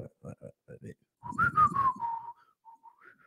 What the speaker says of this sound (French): Je sais siffler en aspirant, mais plus en soufflant.